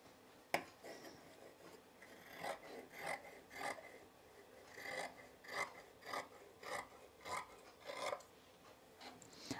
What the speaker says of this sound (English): trimming through this fabric, all these layers is so satisfying